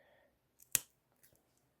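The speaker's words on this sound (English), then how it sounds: "I'm actually going to cut a hole with my cutter" A cutter slicing a hole in messenger bag fabric while sewing: one sharp, close snip that decays quickly, followed by a faint softer click, in an otherwise quiet room.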